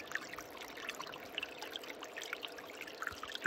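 Cold spring water trickles out of the side of the earth beside an Idaho river, a faint, steady dribble with small splashes and bubbling ticks, close by and quiet.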